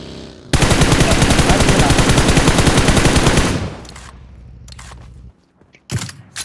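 Automatic gunfire in the mobile battle royale game BGMI, played on an iPad: a loud, rapid, continuous burst lasting about three seconds, followed by a quieter tail and a few scattered sharp shots.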